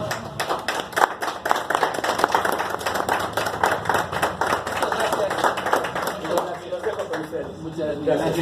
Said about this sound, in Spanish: Yo les pido de favor un fuerte aplauso para recibirlo.